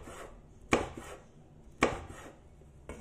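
A knife cuts through a very hot chili on a board in two sharp, close chops about a second apart, with a third lighter tap at the end and quiet room tone between.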